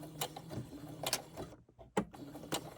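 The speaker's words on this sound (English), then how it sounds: "So keep sewing, and then when you get to the end, do a couple back stitches" A sewing machine stitches a fabric bookmark in short mechanical bursts, its needle tapping in quick rhythmic clusters separated by brief pauses, fairly close and quiet.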